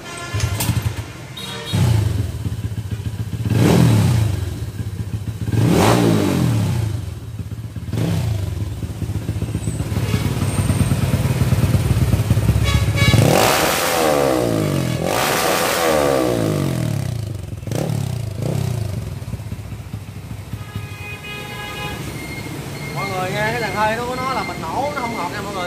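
A motorcycle engine runs after its carburetor fuel mixture has been tuned, with a steady idle hum and several rising revs, heard close up under ongoing talk.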